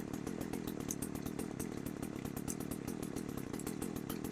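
An old chainsaw, just taken off choke, idles steadily with a fast, even engine putter that holds loud and close throughout.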